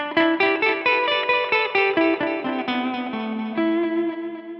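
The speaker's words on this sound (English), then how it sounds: "It's just a very standard delay sound." Electric guitar notes picked in a steady run, each repeating in a trailing echo that blurs the attacks together, with a clean, sustained tone.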